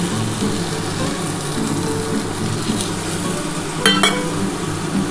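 Milk poured into a pan of mixed vegetables cooking on the stove, a steady loud sizzle and bubbling hiss with a brief clink of a utensil against the pan near the end.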